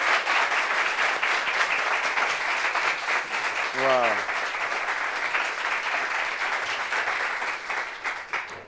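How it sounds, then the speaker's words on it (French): A talk-show studio audience keeps clapping steadily for a guest, and a brief voice exclamation rises over the dense applause partway through before the clapping thins out near the end. "Applaudissez."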